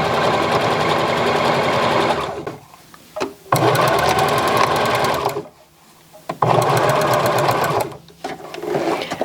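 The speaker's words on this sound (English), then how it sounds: "this is just going to be 1/8 inch top stitching to stitch this pocket into place" A sewing machine topstitches a pocket onto a tee shirt dress, whirring steadily in three runs separated by short pauses.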